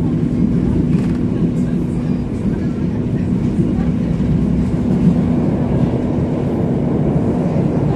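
A Logawa passenger train rolls along the rails with a continuous low rumble and steady hum, close and loud throughout, with a voice speaking over it.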